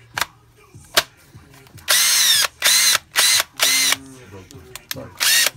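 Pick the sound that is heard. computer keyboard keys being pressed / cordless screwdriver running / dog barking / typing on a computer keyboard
cordless screwdriver running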